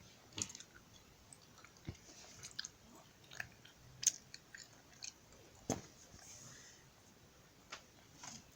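Someone chewing strawberry-flavoured Shin Jjoli jelly candy, with soft, close, irregular squishy bites and small clicks spaced through a quiet room, no talking.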